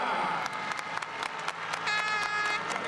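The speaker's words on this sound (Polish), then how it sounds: "Raz jeszcze wielkie brawa!" Crowd applause at a medieval tournament event greets a king on his throne, steady clapping with scattered cheers and a voice briefly rising over it.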